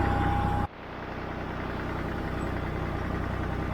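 An old Massey Ferguson 50 diesel tractor engine runs steadily, a continuous low drone that carries on without a break after a sudden cut in the sound near the start.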